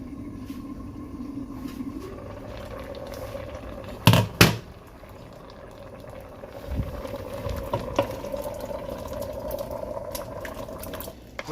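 Beans and plantain porridge simmers in a pot with a soft, steady bubbling as stew is stirred in, with a couple of sharp utensil clatters partway through and no talking.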